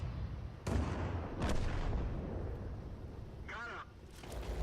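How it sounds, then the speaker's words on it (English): Slow-motion tank shell impacts in World of Tanks: a few deep, drawn-out booms and cracks of a round glancing off front armour, over a heavy rumbling game backdrop, loud and close. "Here's a slow motion shot of that IKV bouncing off the front of my tank right at the end of the game."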